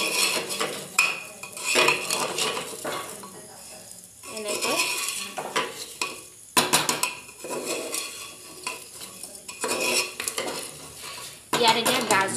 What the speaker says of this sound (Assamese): এয়া সাৱধানে ভালকৈ লৰাই দিছোঁ